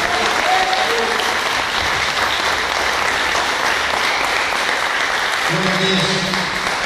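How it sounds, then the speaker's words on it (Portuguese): Church congregation at a service applauding together, a dense steady wash of clapping for several seconds, with voices rising faintly beneath it near the end. "Uma salva de palmas para Jesus."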